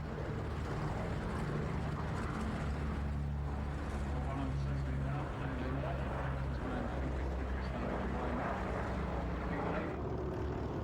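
Two Boeing B-17 Flying Fortress bombers, Sally B and Pink Lady, fly a dual display at the Duxford Flying Legends airshow, their piston engines giving a steady, loud, low droning rumble that continues throughout, with a voice talking over it.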